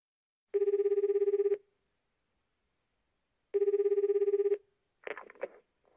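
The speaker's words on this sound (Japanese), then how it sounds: "女の人が家に電話しています。" A telephone rings at home during a call, two long electronic ringing bursts of about a second each separated by a pause, loud and clear, followed by a brief rustle or clatter.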